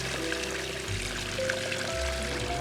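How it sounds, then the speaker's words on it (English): Water pours steadily from a hose or can onto a rose bush, a continuous splashing stream near the microphone with no talking. "we just need to give this a really thorough watering"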